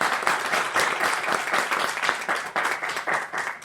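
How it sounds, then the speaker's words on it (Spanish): Loud, dense audience applause rings out after a university talk on magnetic cobalt ferrite nanoparticles, many hands clapping continuously and close with no speech. "Otro aplauso."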